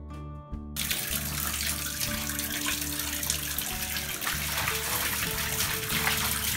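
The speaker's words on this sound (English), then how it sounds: "I think it's time for a bath." A bathtub fills for a bath as water gushes steadily from the tap, a loud continuous rushing that starts abruptly after a short pause and runs evenly throughout, with no voices.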